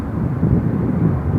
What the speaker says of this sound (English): 737-800, WestJet 664, coming in from Calgary